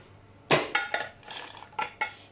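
Fried chillies and cashews, cooked for a restaurant-style chicken gravy, go into a mixer jar, making a few sharp clatters and scrapes of a metal spoon against the pan and jar, spaced irregularly and close, with no talk.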